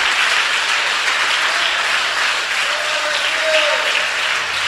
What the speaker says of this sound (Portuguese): vamos aplaudir bem forte